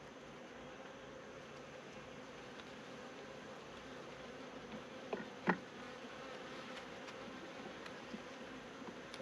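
Honey bees buzzing quietly around an open hive during an inspection, a faint, steady drone with a couple of brief knocks or clicks midway.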